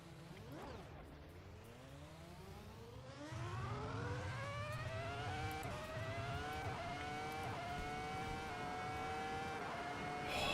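Several Formula 1 race car engines in the Assetto Corsa racing game rev and climb through the gears in overlapping rising whines, with loud, continuous engine sound and no talking.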